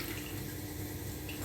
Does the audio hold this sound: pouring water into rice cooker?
yes